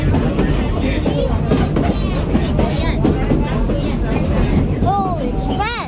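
Train rolling past along tracks through a canyon, a loud, steady rumble with rhythmic clatter from close by, and sharp squealing wheel screeches near the end.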